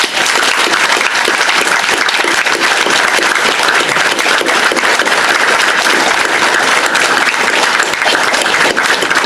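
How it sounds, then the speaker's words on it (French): An audience at a New Year's greetings ceremony claps together in loud, dense, sustained applause that holds steady for the whole stretch with no voices standing out. "Vous pouvez l'applaudir."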